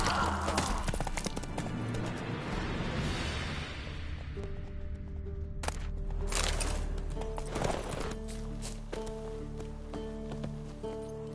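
Hooves of the horse Roach in a video game, a steady clip-clop gait with rustling and a possible whinny, heard over game music and ambient sound.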